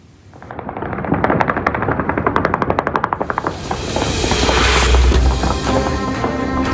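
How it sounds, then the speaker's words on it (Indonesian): Celebratory gunfire shot into the air across Beirut, Lebanon: rapid bursts of automatic fire crackle in quick succession, then give way to a dense roar of distant shooting and rumbling, loud and echoing. "Tembakan terdengar di seluruh Beirut, Lebanon"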